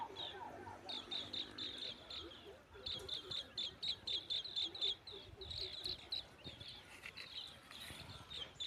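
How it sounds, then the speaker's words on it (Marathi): Small birds chirp at sunset over farmland in quick repeated bursts, a busy chorus of high tweets over a soft, steady outdoor hum. "चिवचिवाट वाट आहे त्यांचा"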